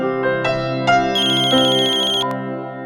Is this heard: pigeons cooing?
no